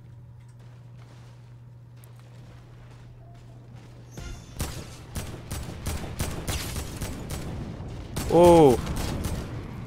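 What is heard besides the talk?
gunfire in the Fortnite video game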